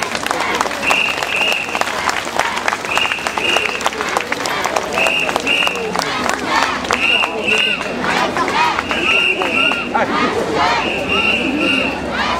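A large festival crowd at the Iizaka Kenka fight festival claps and cheers in a loud, continuous roar, with shouting voices and repeated high whistle blasts at a steady rhythm and people calling out throughout.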